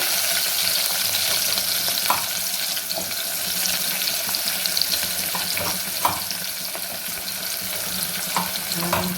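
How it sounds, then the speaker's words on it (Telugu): Onions fry in a pan for egg biryani, giving a loud, constant close hiss and sizzle with a few faint clinks of stirring. "వేసి మంచిగా ఫ్రై చేద్దాము"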